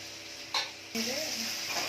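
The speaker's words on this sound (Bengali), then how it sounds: "আর একটু ভাজা হবে, টমেটোটাও আর একটু গলা গলা হবে।" Chopped tomatoes and potatoes frying in a pan sizzle steadily while a spatula scrapes and stirs them, with a short burst of stirring before the sizzle swells louder and continues.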